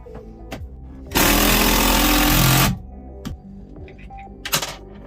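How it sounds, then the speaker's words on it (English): A power drill drives a screw into Starboard marine plastic on a Contender 32CC boat, one loud sustained whirring burst lasting about a second and a half, framed by quieter clicks, knocks and handling noises. "The good thing about Starboard is you can drill right into it like wood"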